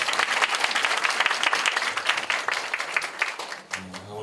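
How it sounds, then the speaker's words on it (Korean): A church audience at a youth leadership retreat breaks into dense, sustained applause for a pastor, loud and steady throughout before easing off near the end, where a voice starts to come through. "강성 목사님께 다시 한번 박수 부탁드리겠습니다."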